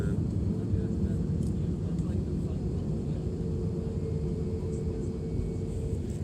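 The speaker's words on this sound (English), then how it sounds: "All right, there's one plane taking off right there." Heard from inside a passenger airplane, a steady low jet engine roar and cabin rumble fills the background while people talk over it.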